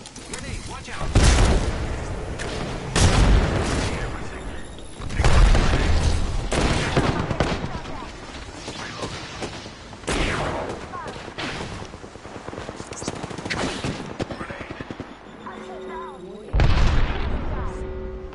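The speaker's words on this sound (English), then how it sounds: "Grenade, watch out." Grenade blasts and heavy gunfire in the Apex Legends battle royale shooter: loud, booming bursts and rapid shot volleys repeat through the fight, with a voice talking between them.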